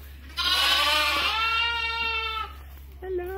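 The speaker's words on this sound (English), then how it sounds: "Baby lambs!" Baby lambs bleat up close on a farm, one long wavering cry followed by a shorter one, with a person talking over them.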